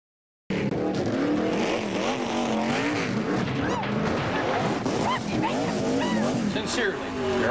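Toyota NASCAR Craftsman Truck Series racing trucks roar loudly and continuously at close range, engines rising and falling in pitch as they race past, with tire squeal mixed in and voices talking underneath.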